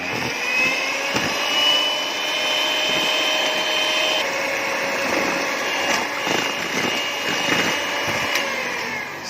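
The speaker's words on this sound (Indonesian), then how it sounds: "Kemudian kita mixer dengan kecepatan speed rendah dulu pemirsa." An electric mixer whirs steadily at a low, even speed mixing bread dough with cooking oil, a constant motorized hum with occasional clicks and knocks from the bowl.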